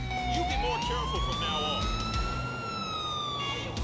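Ambulance siren in GTA 4 arriving close and loud, a rising and gliding wail over steady traffic and engine rumble.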